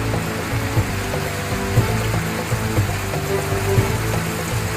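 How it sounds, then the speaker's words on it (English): A universal rock waterfall pours steadily into a koi pond, a soft continuous splashing and trickling with light irregular drips, close and alone. "the beautiful, tranquil sound of a waterfall really is beautiful."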